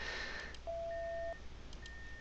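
A few clean electronic beeps, one long steady tone followed by shorter higher ones, against a quiet hiss with no talking.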